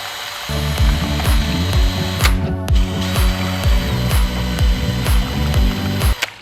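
A resin stirring tool spun inside a container of thinner to clean it, giving a steady mechanical rattle with repeated clicking bursts, close and loud throughout, with no talking.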